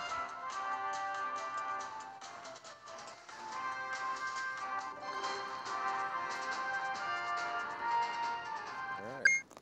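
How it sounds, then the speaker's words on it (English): Pokémon Go battle music plays continuously from a phone's speaker, a busy, looping electronic tune with bright synth melody lines. It runs steadily at moderate volume and ends with a short blip. "what I want you to hear is the battle music continues playing"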